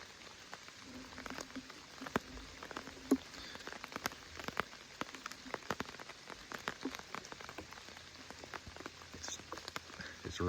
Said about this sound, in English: It's been absolutely pouring for the last half hour.